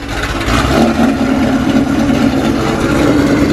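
Ford GT500 V8 with a Ford Racing Sport axle-back exhaust, idling loud and close, a deep, steady, rumbling burble throughout, with no voices.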